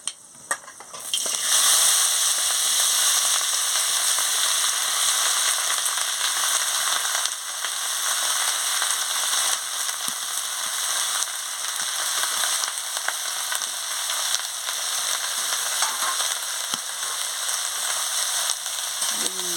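Potato, eggplant and onion pieces frying in a pan, a loud, continuous close sizzle that bursts in as the vegetables hit the oil and holds steady throughout, with occasional stirring scrapes and no voices.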